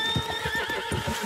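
A horse whinnies loudly and close over rapid clip-clop hoofbeats in Red Dead Online, all within about a second.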